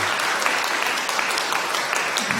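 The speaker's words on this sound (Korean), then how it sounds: "환영의 박수 부탁드립니다." A congregation at a Korean Sunday church service claps in welcome, a steady dense applause that fills the room throughout.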